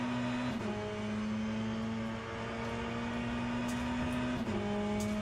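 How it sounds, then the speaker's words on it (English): LMDH prototype race car engine in the Le Mans Ultimate racing game at Monza, a steady droning hum with a faint whine, loud and continuous with slight pitch shifts as gears change. "this car sounds a bit like a Hoover"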